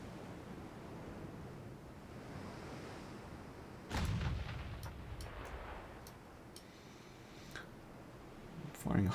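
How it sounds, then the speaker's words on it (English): A high-explosive artillery shell fires in a Korean War campaign video game, heard as one distant boom midway through an otherwise faint, windy hush, with a smaller thud near the end. "Firing a high explosive"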